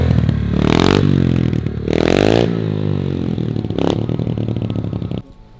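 A dirt bike engine runs and revs nearby, rising in loud repeated bursts of throttle over a steady idle, then dropping off near the end.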